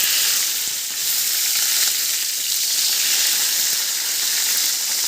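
Peppers frying in a pan for moussaka, a steady close sizzle with bright crackling hiss throughout and no talking.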